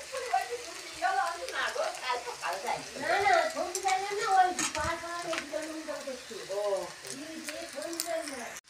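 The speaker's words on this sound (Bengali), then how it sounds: "এরপর ডিমটা দিয়ে দিলাম" Egg frying and being stirred in a pan while making egg chow mein, a steady sizzle with scraping stir strokes running beneath continuous close talk.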